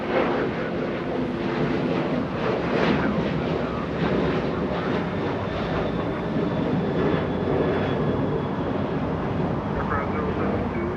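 A French Boeing 777 jet taxis at Los Angeles International Airport, its engines giving a steady, loud broadband roar with a faint high whine throughout, mixed with wind noise and distant airport ambience.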